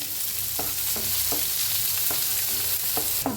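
Onion with coriander leaves frying in a pan as filling for Mysore dosa, a steady close sizzle broken by regular scraping strokes of a spatula about every half second.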